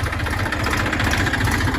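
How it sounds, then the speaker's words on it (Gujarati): A tractor engine chugs close by while driving forward in a farm field, a heavy diesel drone running continuously with a rhythmic low throb. "ટ્રેક્ટર આગળથી બીજો કોર ભરી અને આગળ જાય છે"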